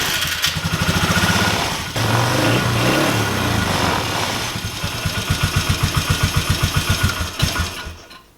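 A Polaris Trail Boss 330 ATV engine cranks and starts, then settles into a steady, close, loud idle with a rhythmic mechanical putter. It stays alone, with no talk, until it fades near the end.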